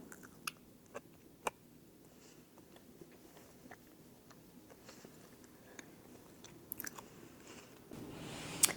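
Crispy pan-fried slices of vegan, gluten-free, soy-free ham roast being bitten and chewed close up, a few sharp crunches early and then quieter, steady mastication in a hushed room.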